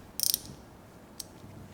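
A SATA gear ratchet wrench clicks in a quick close run of sharp metallic ratcheting ticks, then gives one more isolated click a moment later against a quiet background.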